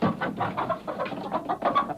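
Hens cluck in short, busy, overlapping bursts close by, a brief run of choppy fowl chatter with no talking.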